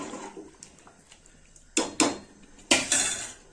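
A ladle stirs bean sambar with tamarind in a cooking pot, giving faint scraping followed by a few sharp metallic clanks against the pot, close and brief, no talking.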